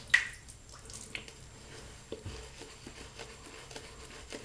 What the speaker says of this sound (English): I'm going to just drip a bit more water onto the face of the brush.